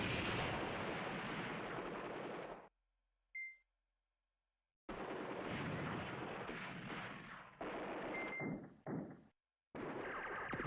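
Heavy artillery fire booms from the wargame Command Ops 2, set in Poland 1939 during the defense of the Beskid Mountains, loud dense barrages broken by short silences with a faint beep.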